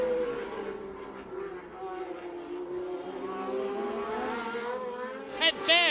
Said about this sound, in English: the Talbot seems to me to be every bit as quick as the Ferrari as they go down the straight